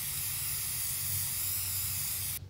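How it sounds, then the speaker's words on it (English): Gold spray paint hisses steadily from an aerosol can onto baked craft stars, a continuous close broadband spray that cuts off abruptly at the end. "it's spray painting time"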